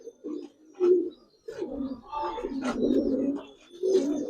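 Giribaz and Army pigeons cooing close by in a loft, a series of soft, throaty rolling coos in uneven bursts with short pauses between.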